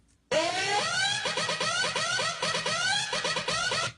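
Electronic dance drop, bounced dry without effects: a dense synth and beat pattern starting abruptly and playing loud and steady, with repeating swooping lead stabs over a pulsing low end.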